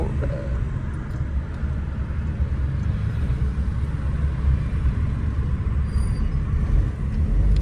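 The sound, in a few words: 660cc Suzuki Alto car engine idling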